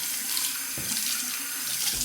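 Tap water running steadily into a sink to rinse a Parker 78R safety razor, a constant close splashing hiss with a few faint knocks.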